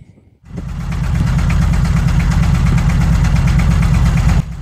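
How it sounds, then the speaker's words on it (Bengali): A trawler boat's engine starts up after a brief quiet and settles into a loud, steady low thrum with a fast mechanical chug, running continuously near the listener. "ভোর হতেই আবার ট্রলারে উঠলাম সবাই, ট্রলার ছাড়লো।"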